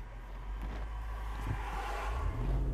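A Nissan Y62 pulls away under light throttle, its deep engine rumble rising steadily beneath heavy wind buffeting across the microphone.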